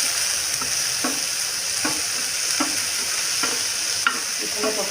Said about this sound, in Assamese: বিলাহীখিনি অলপ সময় ভাজিম